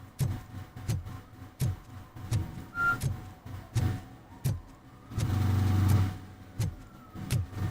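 A truck engine in RoboCop: Rogue City rumbles low beneath a run of evenly spaced thumps, then swells into a brief, louder sustained roar before the thumping resumes.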